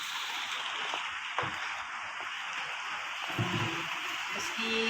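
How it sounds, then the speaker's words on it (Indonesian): Rain falls steadily in a village in Blinteng, a broad soft hiss that stays constant throughout, with faint knocks and a brief murmur of voices in the background. "Meski harinya pun hujan ya pemirsa"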